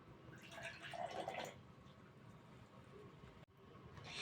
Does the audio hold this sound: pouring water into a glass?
yes